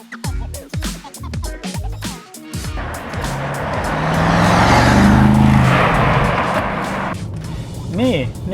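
SUV on 23-inch wheels accelerating on a test drive at around 40-50 km/h, with a steady engine and road roar building in the middle, heard from inside the cabin after a stretch of clicks and knocks.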